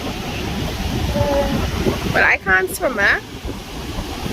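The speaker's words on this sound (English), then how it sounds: "The water is like so cold and the waves are so rough" Rough, cold ocean surf at a Trinidad beach (Macqueripe Bay or Maracas) forms a steady broadband wash with wind buffeting the microphone, continuing under and between a person talking.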